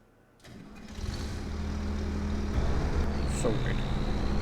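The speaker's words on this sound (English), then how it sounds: "That's a noisy tractor" A tractor engine in the video game Farming Simulator 25 starts up after a short silence and settles into a loud, steady, droning run.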